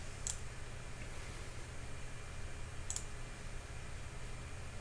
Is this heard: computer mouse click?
yes